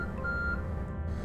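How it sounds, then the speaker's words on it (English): A timer in the Astroneer video game beeps with a thin, steady electronic tone that holds through the whole moment, quiet and alone. "there's the timer"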